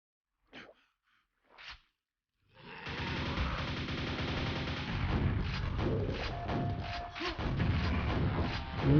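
A nail gun in the classic shooter Quake firing continuously: after a few short quiet blips, a rapid, loud mechanical stream of shots begins and keeps going to the end.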